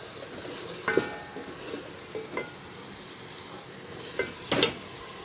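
Aloo palak, potatoes and spinach, sizzling in a pan as it is stir-fried, a steady frying hiss broken by several sharp scrapes and clinks of the spoon against the pan.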